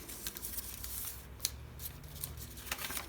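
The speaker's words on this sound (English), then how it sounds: "let's fold it on the score line" Paper board being creased and folded along a score line, a string of close crisp crackles and soft rustling taps at an uneven pace, with one sharper snap in the middle.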